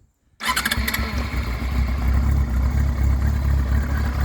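A Yamaha R6 5EB motorcycle with carburettors starts after a brief silence, catching quickly and settling into a loud, steady, close idle.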